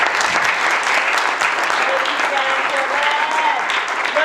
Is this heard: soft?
yes